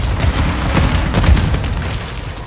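A detonation explodes in Call of Duty Modern Warfare 2 (2022), a loud booming blast with rumbling low end and scattered follow-up bursts that fade over a couple of seconds, with no talking.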